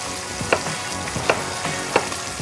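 Lamb breast browning in a pan, a steady close sizzle of hot fat with a few sharp spits and pops at regular intervals, no voices.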